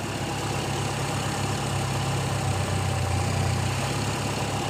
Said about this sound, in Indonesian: Suara mesin lebih halus ya teman-teman, tidak ada suara semacam desisan dari karbu